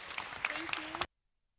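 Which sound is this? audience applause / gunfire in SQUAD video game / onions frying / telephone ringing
audience applause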